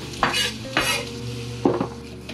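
Tomato goes into a hot pan for a vegan spaghetti squash dish and is stirred, giving a few scraping, clattering utensil strokes over a steady low sizzle, close and fairly loud.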